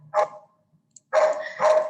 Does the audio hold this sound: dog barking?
yes